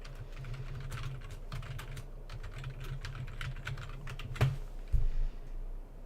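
Keyboard keys clatter in a steady run of quick, close taps while HTML code is typed on a computer, with a couple of slightly heavier key strikes near the end.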